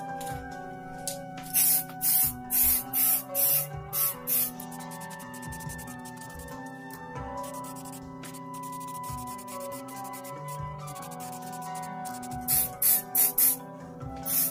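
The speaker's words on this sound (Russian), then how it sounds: "Берем матовую аэрозольную краску Vivido черного цвета и начинаем распылять." Matte black Vivido aerosol paint is sprayed onto a homemade AKS-74U replica prop in short hissing bursts: a quick run of about six near the start and another cluster near the end, over steady background music.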